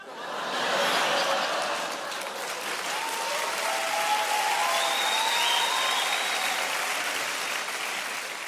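Sustained audience applause at a stand-up comedy show, a loud, dense wash of clapping from a full crowd that holds steady throughout, with faint cheers and a few chuckles mixed in.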